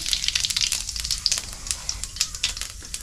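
Dried red chillies and cumin seeds frying in hot oil in a wok for Mughlai paratha, a steady close crackling sizzle with dense popping bursts throughout.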